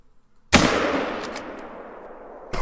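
A single sharp rifle shot at a fallow deer in theHunter: Call of the Wild, a loud crack with a long fading echo that rolls on for about two seconds.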